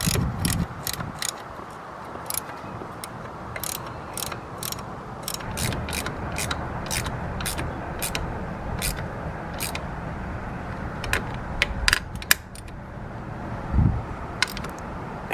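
A socket wrench ratchets on an M8 bolt while fitting rear-sets to a Yamaha FZ6R motorcycle, giving rapid repeated clicks in bursts, close and clear with no talk.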